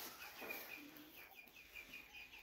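Faint rooster clucking in a backyard chicken coop, a series of short repeated clucks and chirpy calls heard at a distance under quiet ambient noise.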